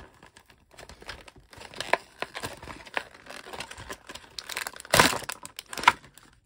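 Plastic bag or thin cardboard packaging for a small Lego Clone Command Station set (40558) being torn open, crinkling and ripping in uneven bursts up close, with a sharp loud tear near the end.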